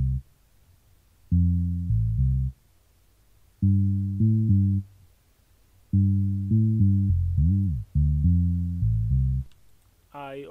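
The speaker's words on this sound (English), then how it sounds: "Then of course I added the bass," Afrobeat bass line in a beat, deep synth bass notes in short repeated rhythmic phrases with gaps between, loud and up front, ending with a brief higher tone.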